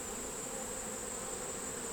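Honey bees buzz in an open hive during an inspection, a dense, steady drone that is close and constant, with no voices.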